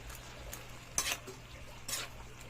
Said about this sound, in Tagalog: Mix natin ang togi.